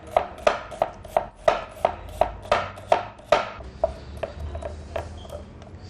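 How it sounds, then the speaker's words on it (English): A knife slices an onion into thin rings on a cutting board, about a dozen sharp, evenly spaced chops up close, then the rhythm loosens and fades into softer taps. "I'll start cutting my onion up, cutting them up in thin slices"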